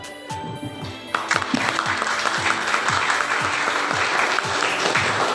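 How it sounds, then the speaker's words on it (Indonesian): An audience at a high school student council (OSIS) candidate debate claps steadily, with dense, sustained applause that starts after a brief lead-in and continues throughout. "Berikan tepuk tangan sekali lagi untuk kedua pasangan."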